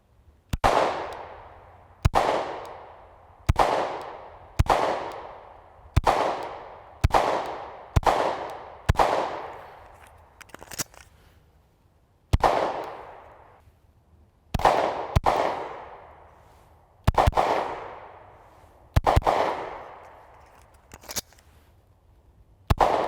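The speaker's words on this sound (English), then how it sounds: "let's do some shooting" Shadow Systems XR920 pistol fired outdoors in snow, about fifteen sharp loud shots in a steady paced string with short pauses, each crack followed by a ringing decay, no talking.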